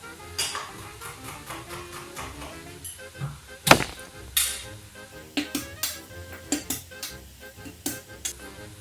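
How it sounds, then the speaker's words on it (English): A knife roughly chopping peeled tomatoes on a board, with quick irregular taps and clacks over a continuous busy kitchen bed, one louder knock standing out midway. "just give it a rough chop"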